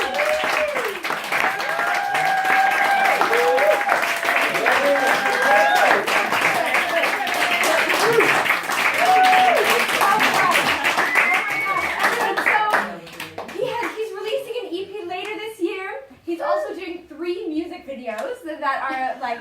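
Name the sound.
audience applause at live concert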